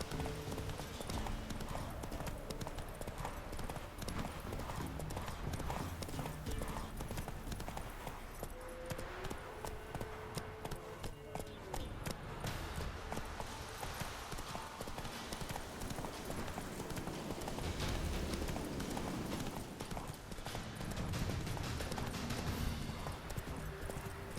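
Roach, a horse in The Witcher 3: Wild Hunt, gallops with a steady, rapid clip-clop of hooves that runs continuously under ambient game sound, fairly quiet overall.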